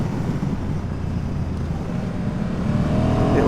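Honda NT1100 motorcycle engine (2022 model) droning steadily on a road, loud and close with wind noise, rising slightly in pitch near the end as it revs.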